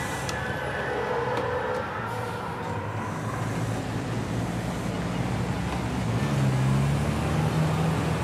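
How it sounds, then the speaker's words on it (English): Racing truck engine in a racing video game, a continuous droning rev that climbs and shifts pitch over a broad noisy roar, building louder toward the end. "Once again, I'm revving it too much."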